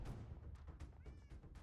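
A cat gives a short run of quiet meows, several brief rising cries close together within a second and a half, heard alone.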